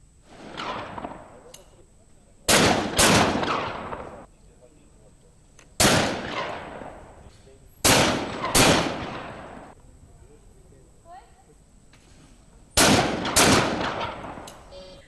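Gunshots ring out at an outdoor skeet shooting competition in Jaipur, roughly eight loud, sharp blasts, mostly in quick pairs, each trailing off in a rolling echo with quieter gaps between volleys.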